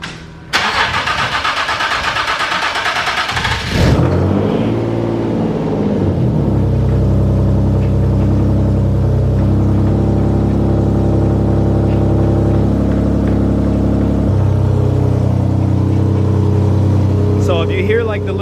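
A car engine cranks with a rough whir for a few seconds, catches, then settles into a steady low idle that drones on.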